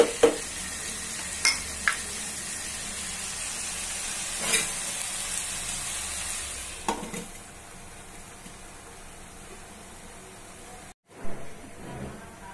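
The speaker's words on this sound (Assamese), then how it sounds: "এয়া মই অকণমান লৰাই দিছোঁ" Chole sizzling steadily in a pan, heard as a soft continuous frying hiss broken by a few scraping stirs near the start, fairly faint, with no talk.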